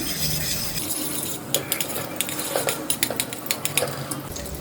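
Butter melts into hot oil in a pan, giving a soft continuous sizzle, joined midway by a run of light metallic taps and scrapes from a utensil against the pan.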